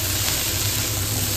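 Chopped banana flower hits a frying pan of hot oil and fried ingredients, giving a short, steady, close hiss of sizzling.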